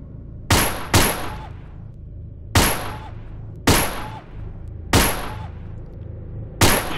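Single gunshots in the Gun Club VR S.W.A.T DLC shooting game, six sharp loud reports fired at irregular intervals, two in quick succession at the start, each followed by a brief ringing tail over a low steady hum.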